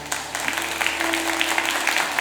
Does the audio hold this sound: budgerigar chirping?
no